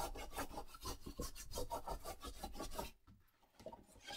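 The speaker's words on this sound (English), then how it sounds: "Push that down and turn it over and give it a real good burnish." A bone folder burnishes paper over chipboard for a handmade Valentine's book box, giving rapid rhythmic rasping rubs up close that stop briefly near the end before a few softer strokes.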